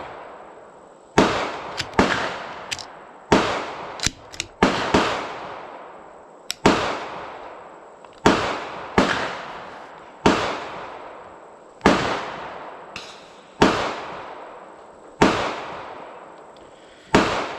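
Ten sharp, loud rifle shots from a Sako TRG in 6.5 crack out one at a time at irregular spacing, each with a decaying echo tail.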